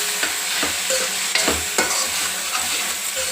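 Spinach stir-fries in a pan, giving a steady sizzle cut by repeated sharp scraping and stirring strokes, close and moderately loud, with no talk.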